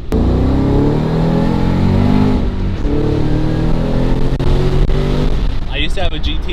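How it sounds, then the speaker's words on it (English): A supercharged Shelby Mustang GT500 accelerates with a loud, deep engine roar whose pitch climbs and then resets as it shifts, heard from inside the car with occasional voices. "you definitely feel the supercharger kick in"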